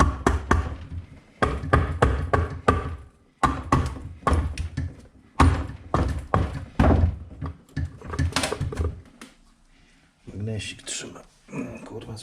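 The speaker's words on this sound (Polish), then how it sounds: "Młotek gumiasty idzie jakoś." A series of short, dull rubbery knocks in quick bursts, fairly close, with pauses between groups and someone talking over parts of it; a rubber mallet tapping engine parts of a Honda NSR 125 motorcycle.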